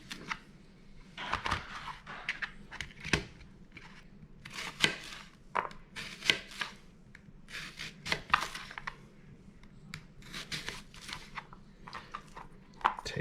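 A kitchen knife slices an onion in half on a cutting board while making bratwurst: scattered soft crisp crunches and knife taps, fairly quiet and close, with no voices.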